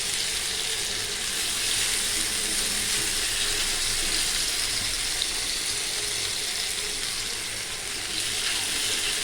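Potato snacks frying in coconut oil: a dense, steady sizzling hiss that stays close and continuous with no breaks.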